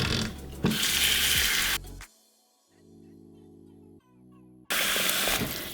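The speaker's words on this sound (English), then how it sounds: "So when I put this cold water in here, I'm not going to fill it to the tippy top of my pot." Cold tap water pouring into a pot of bison bones for bone broth, a loud rushing splash that cuts off, leaving a softer steady filling tone, then the loud pour resumes near the end.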